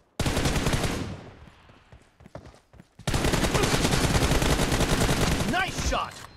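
Dense, loud bursts of automatic gunfire in the video game PUBG Mobile, one long burst, a sparse gap of scattered shots, then another sustained burst, with a brief voice line near the end.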